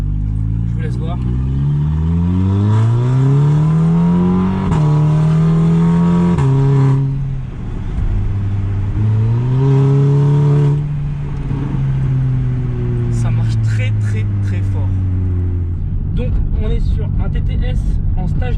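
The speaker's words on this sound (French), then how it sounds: "TTS en stage 2 éthanol avec admission full stock et on a une ligne Decata, ce qui permet d'avoir un bruit" A stage 2 ethanol-tuned Audi TTS with a stock intake and a Decata exhaust accelerates hard, its engine note climbing through the gears in loud, close pulls before settling into a steady drone.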